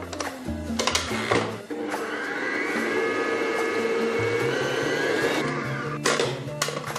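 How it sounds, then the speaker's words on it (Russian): A whirring electric mixer whisks pancake batter steadily for several seconds, bracketed by clattering bowl and utensil knocks at the start and end. "И все тщательно размешиваем."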